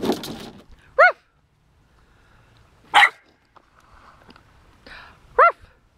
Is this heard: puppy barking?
yes